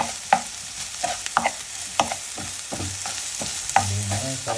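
A spoon stirs and mixes ingredients for a homemade remedy, with repeated scraping and clinking strokes against the container in an uneven rhythm, close and fairly loud with no talking.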